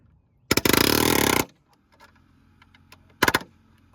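A pneumatic palm nailer drives a nail into wood, giving a close, loud burst of rapid hammering that lasts about a second, followed by quiet shuffling and then a second short burst.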